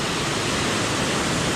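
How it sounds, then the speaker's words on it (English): Steady broadband rush of a waterfall crossing the Lincoln Brook Trail near 13 Falls in the Pemigewasset wilderness, a continuous close roar with no voices. "you have to cross this waterfall"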